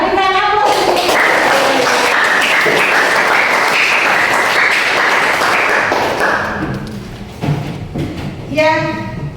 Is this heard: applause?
yes